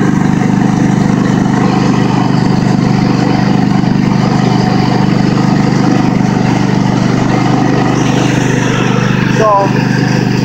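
Craftsman ProSeries garden tractor engine runs at low throttle, a steady, loud, unbroken drone that holds evenly for the whole stretch with no blade engaged.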